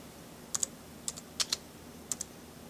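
Typing on a computer keyboard, several quick pairs of crisp key clicks spaced across the moment, close and clear over a quiet background hum.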